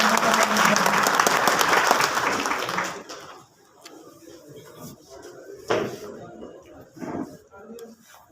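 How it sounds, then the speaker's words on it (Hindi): Loud, dense applause from a crowd at a political party meeting for the party in-charge, sustained for about three seconds before cutting off, followed by quieter room noise, scattered bumps and a few stray claps. "हमारे प्रभारी महोदय का जोरदार तालियों के साथ"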